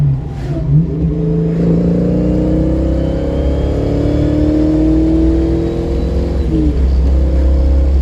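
A Ford Mustang Foxbody on 17x9 Cobra R clone wheels accelerates hard through first and second gear, its engine loud and close with a steady climbing pitch and a gear change near the end.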